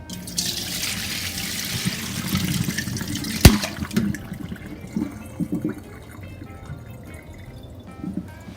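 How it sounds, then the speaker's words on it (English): Juices from barbecued pulled pork pour through a colander in a rushing, splashing stream. A sharp clank sounds midway, then the flow eases to softer trickles and drips. "We're just going to use the colander to drain off all the juice."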